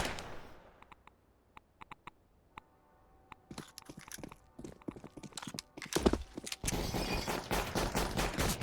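P250 pistol fire in a Counter-Strike match on the Train map. Sparse sharp clicks build into denser, overlapping shots and impacts, ending in a loud continuous burst.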